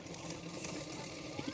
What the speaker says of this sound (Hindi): मुहूरी जितना था मैंने इतने में मार्किंग करके उसके बाद फिटिंग के लिए सिलाई कर रही हूँ